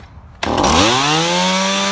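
A chainsaw engine catches and revs up abruptly, then holds a loud, steady, buzzing drone with rising harmonic tones, close by and alone without talk.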